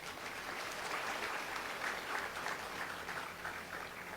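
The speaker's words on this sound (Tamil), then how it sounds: "ஒரு அரங்கம் முழுவதும் சேர்ந்து கைத்தட்டல் கொடுங்க" An auditorium audience at a Tamil comedy talk applauds together, a sustained, even wash of many hands clapping that carries on for several seconds, heard from some distance without speech.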